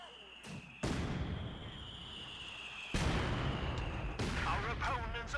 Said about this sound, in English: Mortar barrage does come in and does highlight their position.